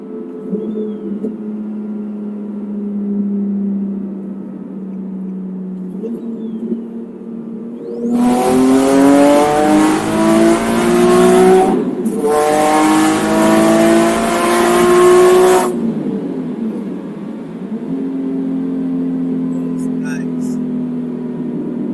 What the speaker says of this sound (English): I'm trying to do a third gear pull.